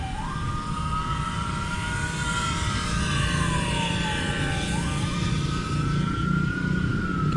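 An ambulance siren wails, rising and falling in long slow sweeps, loud and continuous over heavy traffic-like rumble, with no voices.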